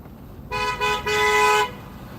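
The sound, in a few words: car horn honking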